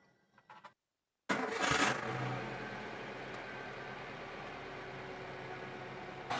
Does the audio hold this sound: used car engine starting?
yes